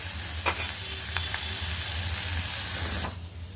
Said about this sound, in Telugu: ఇప్పుడు ఈ కారం వేసి కలుపుకోవాలి